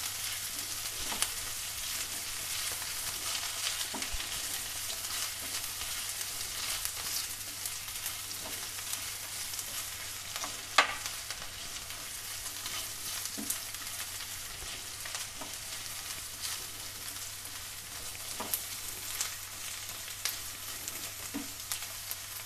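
Onion and mixed vegetables sauté in a pan for a vegetable patties filling, giving a long, even, fairly quiet sizzle with occasional light pops and utensil taps over a faint steady hum.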